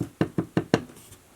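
Knuckles rap on the front door of a barn, four firm close knocks in a quick even rhythm with a hollow wooden thud, followed by quiet.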